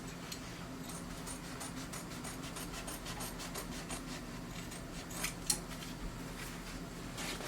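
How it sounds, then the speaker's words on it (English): Scissors cut through dress fabric along the front neckline in a quiet series of soft snips and rubbing strokes, close up, with a few sharper clicks near the end. "I'll cut the front neckline."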